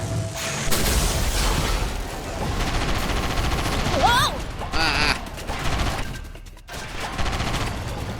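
Tank cannon and gunfire in the video game Sand Land, a dense run of booms and bursts filling the whole stretch, loud and close, with a brief rising whine partway through.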